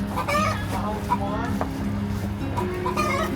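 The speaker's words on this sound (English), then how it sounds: "And you got all the chickens over here." Chickens on a farm with peach trees, heard as clucks and short calls under and between a person's talking, fairly close and moderately loud in an outdoor setting.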